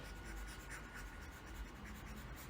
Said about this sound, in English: Let me erase here.